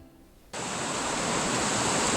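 Fast-flowing rapids, riffles and chutes on the Gunpowder River cut in suddenly as a loud, steady broadband rush of water that holds unbroken to the end, with no voices.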